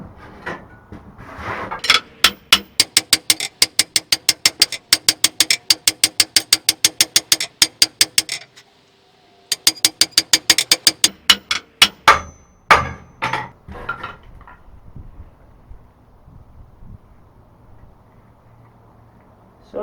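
A hammer strikes hot steel while a tomahawk mandrel is forged, in fast, loud, evenly spaced ringing blows, then a short pause, another run of blows and a few slower hits before a quiet end.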